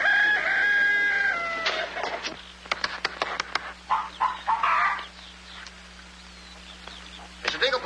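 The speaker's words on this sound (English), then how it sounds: "I'm going to tap every one of those hens till I find the one that lays the golden egg." Chickens in a farmyard scene from the 1952 film Jack and the Beanstalk, with a rooster-like crow followed by a run of clucks and short bird calls at close range over a low steady hum.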